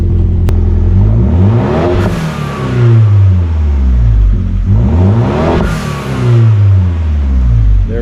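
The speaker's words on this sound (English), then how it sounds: "another video that compares the exhaust sound to the stock exhaust off a Lusso" A Ferrari Lusso fitted with a resonated aftermarket exhaust revs twice, each throttle blip swelling into a deep, loud roar and falling back to a throbbing idle, close up with no talking.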